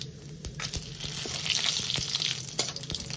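Cumin seeds crackle in hot oil, a fairly quiet, continuous frying hiss broken by sharp, scattered pops throughout.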